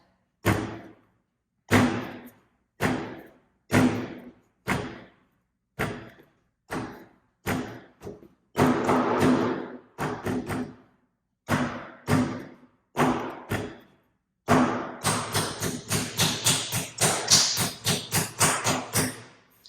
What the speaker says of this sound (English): take your clay and start banging it on the table, flattening it with your hand, and shaping it